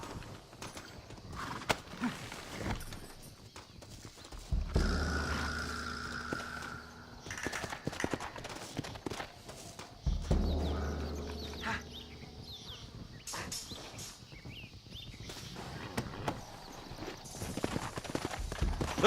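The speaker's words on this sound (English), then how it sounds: "Looks like Carlos left us some horses" Horse hooves clip-clop in Red Dead Redemption 2 in a rapid uneven rhythm, mixed with game ambience and shifting background layers, moderately loud throughout.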